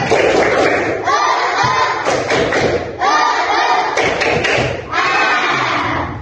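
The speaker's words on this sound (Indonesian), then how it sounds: "Ayo, tepuk semangat." A school class claps a rhythmic spirit clap in bursts while shouting a chant together, loud group voices and sharp claps repeating in several short rounds, close by.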